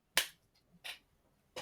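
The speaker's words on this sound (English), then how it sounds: "this is the sound of two people who are breaking social distancing clapping" Three sharp, isolated claps ring out, close and dry, with quiet gaps between them, as two people clap together in a small room.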